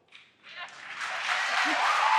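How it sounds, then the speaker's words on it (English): Applause from a debate crowd rises out of a brief lull after a candidate's answer and swells into a broad, steady roar of clapping that holds to the end. "It got a huge pop from the crowd"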